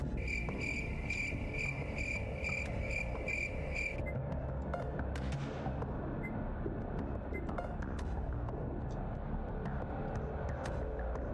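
Steady, rapid cricket chirping from a video game, loud and continuous for the first four seconds, then fading into a dense bed of background game noise.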